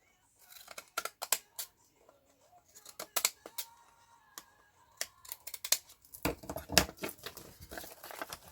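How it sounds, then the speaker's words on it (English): Deckle-edge craft scissors snip along the edges of a paper tag in a quick series of close, crisp cuts with brief pauses, some rustling of paper between strokes. "And then I've got the deckled edge scissors,"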